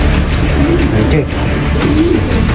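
Racing pigeons arriving at a loft, with soft low cooing and bird calls over a continuous background rumble.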